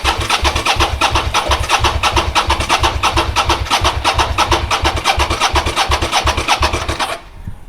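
A Suzuki SV650 motorcycle that has sat unused for five or six years cranks on the starter without firing, a fast, even, loud whirring churn that runs steadily for about seven seconds and then stops abruptly.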